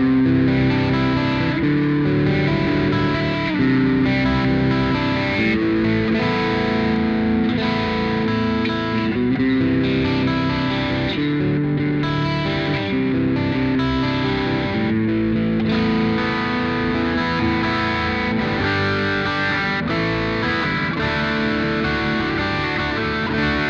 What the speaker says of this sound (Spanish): vamos a escuchar ahora el White Sands, que es este, es un overdrive tranquilo